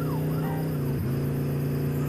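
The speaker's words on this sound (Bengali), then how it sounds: "পুলিশের গাড়ি।" A police car siren in the mobile game Dude Theft Wars wails continuously and loudly, with a steady engine drone underneath and a brief dip in pitch partway through.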